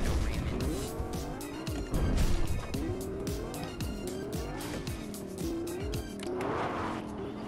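A car driving in Fortnite, its engine revving up and down with loud tire squeals and skidding as it swerves, steady and close throughout the stretch.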